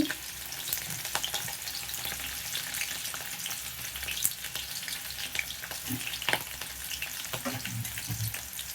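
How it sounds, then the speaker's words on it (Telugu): Onion pieces and dried red chillies fry in a hot pan for dal, a steady dense sizzle and crackle with occasional louder pops and stirring scrapes, close and continuous. "సగం ఎర్రగడ్డ ముక్కలు వేసేసి ఎండుమిర్చి రెండు ఎండుమిర్చి అండి"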